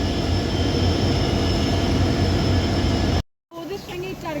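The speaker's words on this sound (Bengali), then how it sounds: "একদম সঠিক টাইমে ট্রেন ঢুকেছে" A train pulls into Lumding Junction station with a loud, steady rumble of rolling wagons that cuts off abruptly, giving way to quieter platform ambience with faint voices.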